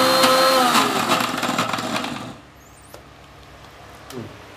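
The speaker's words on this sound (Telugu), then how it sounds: "ఉప్పు, జీలకర్ర ఇది వేసి దీన్ని మెత్తగా గ్రైండ్ చేసేయాలి" A kitchen grinder runs loud and steady, blending soaked lentils with salt and cumin into a smooth batter for kanda vada, then stops abruptly partway, leaving faint clicks and small handling sounds.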